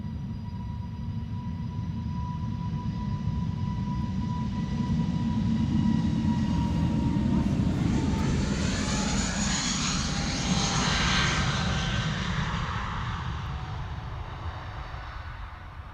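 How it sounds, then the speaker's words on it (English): A British Airways Airbus A320neo jet takes off at Amsterdam Schiphol, its engines a loud, steady roar that swells to a peak midway with rising whine tones and holds under a broad rumble. "BA A320neo flight 431 going to London Heathrow"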